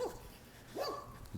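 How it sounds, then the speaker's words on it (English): A dog barks a few times on a morning walk, short sharp yelps at moderate distance with a quiet pause between bursts. "Derek Deadlifts, getting barked at by a dog during his morning walk."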